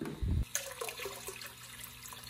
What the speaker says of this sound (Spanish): La sacamos aquí, lo destapamos y vaciamos toda nuestra agua a nuestro acuario nuevamente